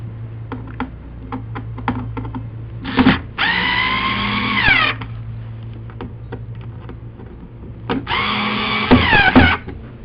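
A power driver runs screws to mount a console on a Carolina Skiff JV-15 boat, giving two rising whirring bursts with light clicks and taps between them.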